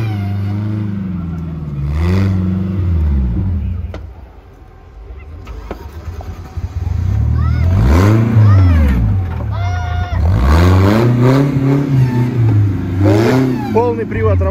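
An off-road Lada Niva in a trophy-sprint stage, its engine stalling and unable to hold an idle, revs hard in repeated rising and falling surges, loud and close, with a brief dip in between.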